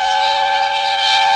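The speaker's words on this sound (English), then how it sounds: "Presently, he heard a whistle." A steady, high steam whistle blows loudly and continuously, a bright sustained tone held throughout.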